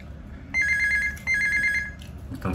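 A telephone rings in a hotel room during quarantine, two loud bursts of electronic ringing separated by a short gap, with a brief rustle at the end and no talk.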